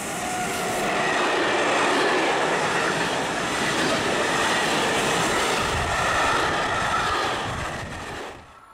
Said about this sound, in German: Es sind sowohl Güterzüge, die von Loks der DB Cargo gezogen werden, zu beobachten